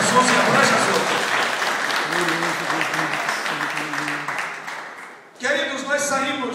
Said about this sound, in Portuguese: Quem quiser e puder, dê uma salva de palmas bem linda para Jesus.